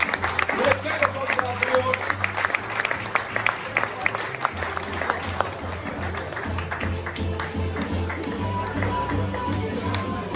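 An audience applauds at a water utility award ceremony, clapping scattered over a low pulsing music bed with a voice or two breaking through, the claps thinning and fading partway.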